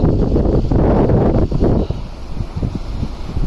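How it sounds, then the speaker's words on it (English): Strong gusting wind buffets the microphone beside a big lock on the River Calder during a narrowboat trip in Yorkshire, loud and roaring at first, then easing into rougher, uneven gusts. "you can hear of this wind. It's a horrible strong wind behind me."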